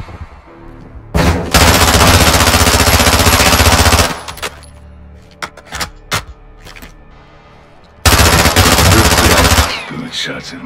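Loud sustained automatic gunfire bursts from a Call of Duty Modern Warfare II game, two long volleys with scattered single shots and brief game voices in between.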